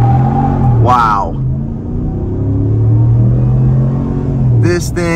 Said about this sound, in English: This thing is a burnout machine. I was not expecting it to roast those tires like that.